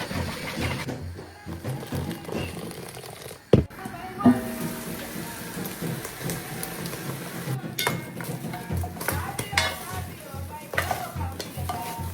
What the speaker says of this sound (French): je vais délayer environ 250 g de pâte d'arachide avec de l'eau chaude